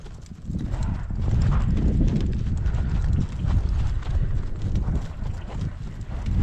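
A horse trots on longlines on a windy day, steady clip-clop hoofbeats under gusty wind buffeting the microphone, close and continuous with a brief voice in the background.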